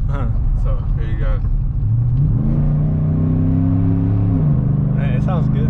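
Ford Sierra with a Carven TR 3-inch exhaust revs up from inside the cabin, the engine note climbing and holding a loud droning pitch before easing off, with people talking over the start and end.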